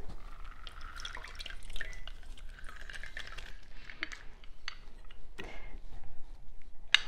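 Soy milk and lemon juice pour into a bowl in a kitchen, a soft continuous liquid trickle with gentle splashes and drips, close and fairly quiet, ending with a couple of light clinks.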